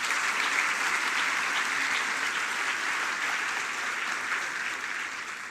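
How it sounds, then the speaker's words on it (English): Hall audience claps warmly after a choir performance at a school anniversary oration, a steady, even round of applause that slowly fades toward the end. "I think they deserve another round of applause"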